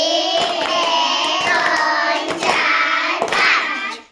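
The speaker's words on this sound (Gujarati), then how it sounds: "ચાલો 5 લાડવા તાળી પાડી દો ગણીને." Five sharp claps from a group of schoolchildren in a classroom, evenly spaced about once a second, loud and close with no talking over them.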